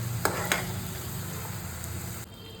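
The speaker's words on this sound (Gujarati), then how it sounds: "તો ડુંગળી પણ આપણી સતળાઈ ગઈ છે વ્યવસ્થિત રીતે" Onions sizzle steadily in a pan for paneer tikka masala. Two sharp clicks sound early on, and the hiss drops in level just before the end.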